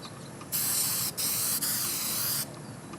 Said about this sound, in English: I am just going to spray a little extra on the foam and nothing on the velour.